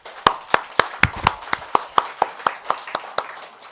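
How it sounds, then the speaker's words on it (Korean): An audience at a Buddhist temple dharma talk claps in steady rhythm, about fifteen crisp, evenly spaced claps close by, with no talking over them. "박수 한번 쳐드리게."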